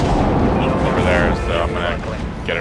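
Heavy naval cannon fire from a warship broadside in the video game Dreadnought, a loud continuous roar of booming blasts with bursts trailing off, under game noise with speech mixed in.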